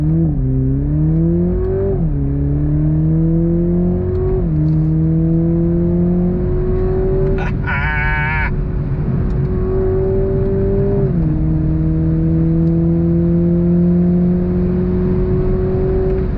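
A 2022 Toyota Supra 2.0 launches at full throttle from a standstill, its engine note climbing loudly through the gears, dropping at each upshift and rising again, close and steady with no talking.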